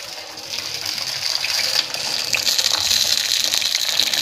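Hot hair oil with a little water in it sizzles and splutters in a pan, a steady bright hiss with crackling bursts that rises slightly and holds throughout, with no talking.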